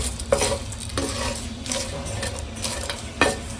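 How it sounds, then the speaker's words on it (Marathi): Whole spices (cardamom, cinnamon, cloves, cumin) being dry-roasted in a pan, with a soft continuous sizzle broken by a few scraping stirs of a spoon against the metal. "सगळं छानपैकी गरम करून घेऊया भाजून घेऊया"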